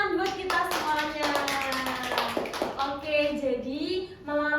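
Classroom clapping during a microteaching game session, a short burst of hand claps from a group of students with a teacher's voice talking over it throughout.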